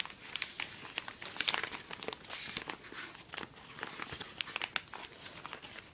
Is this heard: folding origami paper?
yes